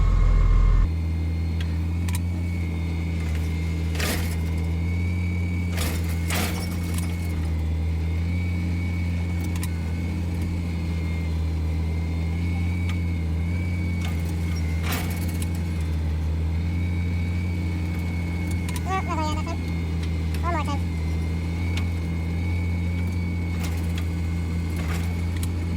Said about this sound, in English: Navigate the front mower in.